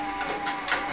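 Compound feed walking foot sewing machine stitching leather harness, a steady mechanical whir with a fine tonal hum and soft rhythmic ticks, close and continuous with no talk.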